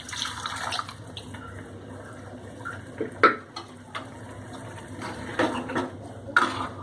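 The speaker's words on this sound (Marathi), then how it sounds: "कुकरमध्ये जे आपण शिजवून घेतलेलं आहे त्यातच आपण पाणी टाकूया आणि हे सगळं त्यात असं ओतून घेऊया." Water is poured into a pressure cooker holding cooked taro leaves for a Maharashtrian taro-leaf curry, giving a low continuous splash with several sharp metallic clinks of utensils against the pot, fairly close.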